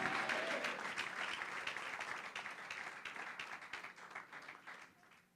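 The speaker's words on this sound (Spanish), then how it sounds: "Dale un fuerte aplauso porque Él es digno de confianza" Church congregation applauding during a sermon, a dense burst of many hands clapping that starts loud and gradually fades away over about five seconds.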